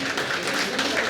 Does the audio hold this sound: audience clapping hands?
yes